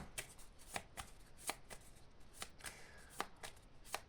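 A deck of cards is shuffled quietly close by, soft rhythmic riffling flicks repeating in a dim room with no talking.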